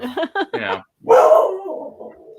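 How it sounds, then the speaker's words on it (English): A few short spoken syllables are followed by one loud, close dog bark that trails off into a softer whine. "You're barking at yourself now."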